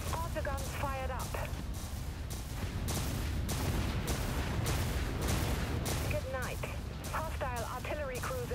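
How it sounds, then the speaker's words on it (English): Autoguns on a warship in the sci-fi naval game Dreadnought fire a continuous dense barrage of rapid booming shots, loud and close, mixed with a radio-style voice chattering in the background. "Autoguns fired up."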